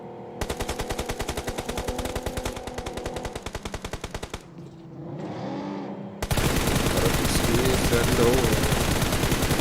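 Rapid automatic gunfire in PUBG Mobile during a Nigeria Pro League playoff match, long bursts of close, even shots that pause briefly before heavy firing resumes, with a caster talking over it.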